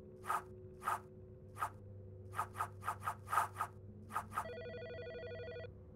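In the game Autopsy Simulator, a needle sews a body shut with a baseball stitch, giving a string of short, sharp pulling and scratching ticks in an uneven rhythm. A brief electronic ring joins near the end.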